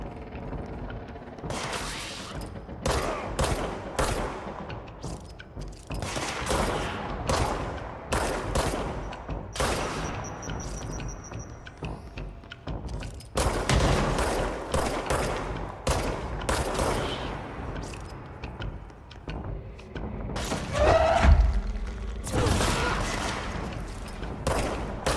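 Gunfire from the video game Control, with repeated bursts of rapid shots and heavy blasts crowding the mix in dense clusters, broken by short lulls, loud and close throughout.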